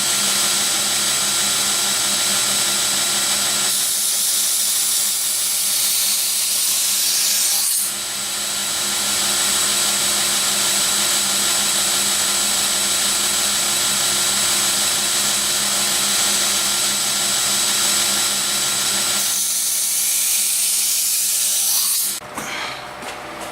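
Continuous harsh grinding of the blade edge on a Case XX steak knife, loud and close, running steadily for long stretches with brief breaks.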